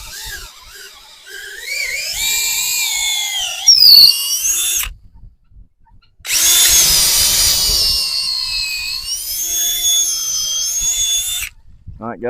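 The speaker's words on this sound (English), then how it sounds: "We'll go ahead and drill our hole into the wood." A power drill bores a hole into wood while installing a heavy-duty cattle gate, two long whining runs with rising and falling pitch, loud and close, separated by a short pause.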